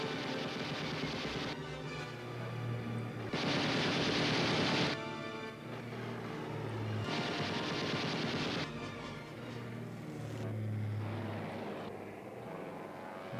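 Bursts of machine gun fire from enemy planes in an aerial combat video game, several loud rattling volleys of a few seconds each over a steady engine and propeller drone.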